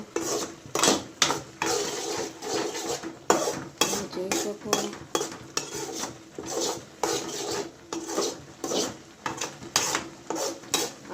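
A spoon scraping and stirring thick carrot halwa in a metal pan, in repeated rhythmic strokes with no talking.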